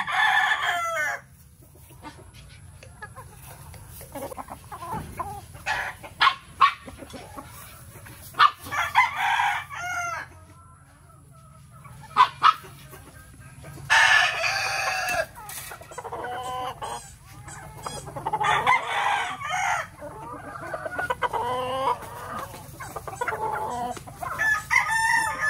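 Chickens cluck and squawk nearby in scattered bursts in a battery-cage breeding area, with a rooster crowing loudly a few times among them.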